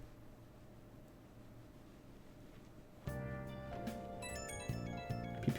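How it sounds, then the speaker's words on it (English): A phone ringtone sounds in the video game Persona 5 Royal, a bright melodic chime that starts abruptly partway through over a steady hiss and continues to the end. "phone's going off"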